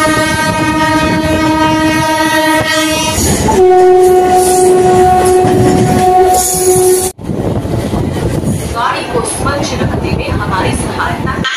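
A local passenger train on the ride to Howrah sounds its horn in long sustained blasts, then rumbles on with a loud, steady rattle of wheels and carriages, heard from close by inside or beside the train.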